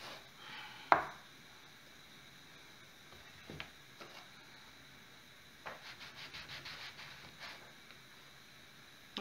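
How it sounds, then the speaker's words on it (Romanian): Knife cutting through multigrain seven-cereal flatbreads on a board, a sharp knock followed later by a quick run of soft rhythmic chopping strokes, close and fairly quiet. "ia să tăiem așa, să le punem deoparte."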